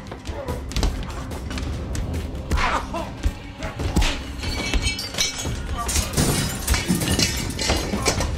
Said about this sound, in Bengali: ওরা একটা লাঠিও জোগাড় করেছিল, এলো পাথাড়ি মারল সাত্যকীর পড়ে থাকা শরীরের ওপর